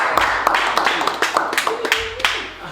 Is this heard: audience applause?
yes